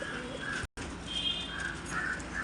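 Pure black Kale Chini pigeons, a breeding pair with white beaks and white eyes, coo softly in a low murmur that runs steadily through the whole stretch, with a brief dropout partway and a few faint chirps above.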